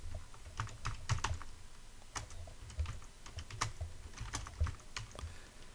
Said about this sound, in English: select the text tool, and start typing.